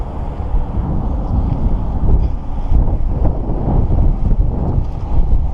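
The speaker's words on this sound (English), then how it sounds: "little windy today" Gusty wind buffets the microphone outdoors beside a 2015 BMW 535d during a windshield replacement, a loud, continuous low rumble with no talking.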